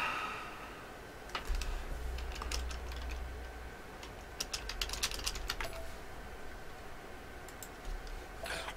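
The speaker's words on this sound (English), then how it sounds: "I'm typing it in right now for him to join." Soft keystrokes on a computer keyboard tap in scattered bursts, faint and close, over a low background hum.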